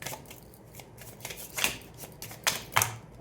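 Tarot cards are shuffled and drawn in soft papery rustles, with several sharper snaps and flicks breaking through, close and fairly quiet.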